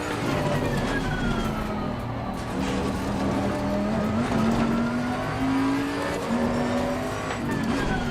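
Bentley GTC racing at the Hungaroring in the sim game Assetto Corsa, a loud continuous engine drone that rises and falls in pitch with the throttle, faint tyre noise beneath, no talk.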